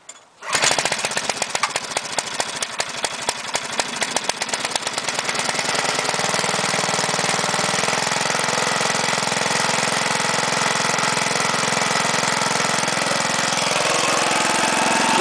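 A lawn mower engine catches after starting and runs steadily and loudly, a rapid pulsing chug settling into an even drone for the rest of the clip.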